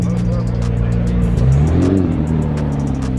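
McLaren 765LT sports car pulling away hard, its engine note rising in pitch as it accelerates, loud and close amid steady street background noise.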